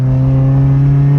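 A 23-year-old Honda engine revs loudly and steadily toward VTEC, a sustained close droning tone with no pause over the short stretch.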